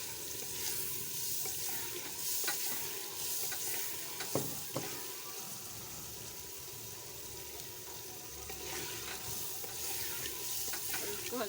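Chicken being added to frying masala for a cauliflower and meat curry, with a steady close sizzle under scraping stirring and a couple of sharp clatters.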